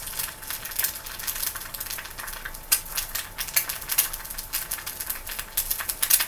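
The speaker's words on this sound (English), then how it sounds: "As you can hear, as mine is sizzling" Egg sizzling in a frying pan: a steady hissing crackle with scattered small pops, close and fairly quiet, with no talking.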